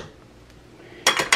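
Halloween-themed dishes knock together: after a quiet moment, three quick, bright ceramic clinks sound close by at the end.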